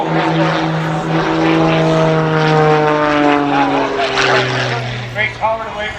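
Propeller aerobatic airplane performing stunts at the 2024 Dayton Air Show, its engine droning loudly and steadily with pitch sweeps as it climbs and tumbles, under a commentator's voice.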